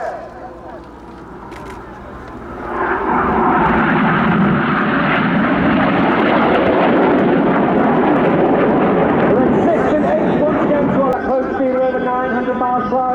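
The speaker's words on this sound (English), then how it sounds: "Each aircraft will form a barrel roll, cross about 30 metres, wingtip to wingtip, followed by inverted flight in a manoeuvre simply called the crossbow." Red Arrows jets performing the crossbow manoeuvre at RIAT 2025, a loud sustained roar of engines swelling after a few seconds and holding steady overhead, with a commentator's voice partly under the noise.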